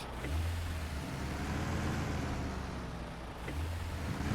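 A Chevrolet truck engine drives steadily in SnowRunner, a continuous loud low rumble with a brief rise in revs near the end, and no talking.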